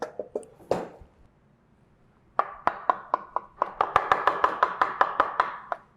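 Fried cabbage fritters are being cut into thin julienne strips with a knife on a board. A few sharp strokes come first, then a steady, evenly spaced run of crisp chopping taps, close and clear.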